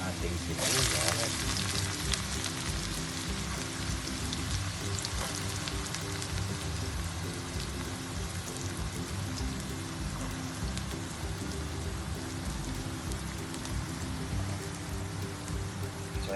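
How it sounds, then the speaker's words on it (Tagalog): Chopped onions sauté in hot oil for beef giniling, giving a steady, close crackling sizzle that runs the whole time, joined by a few brief clatters near the start. "hintayin din po natin mag-brown ang ating sibuyas"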